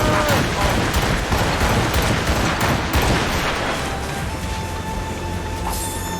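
Assassin's Creed Rogue battle scene: a dense, crackling volley of gunfire bursts for the first few seconds, then fades into a steady rumbling background with faint tonal ringing.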